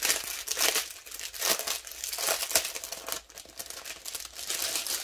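Plastic packaging holding diamond-painting diamonds is crinkled and worked open by hand, giving close, continuous crackling and rustling bursts with short tearing sounds and no speech.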